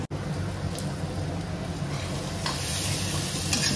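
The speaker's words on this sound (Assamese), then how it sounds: "অলপ ঢাকনিটো লগাই ভাজি থাকিম।" Steady sizzling from chayote frying in a pan, with occasional scraping of a spoon stirring, continuous and close.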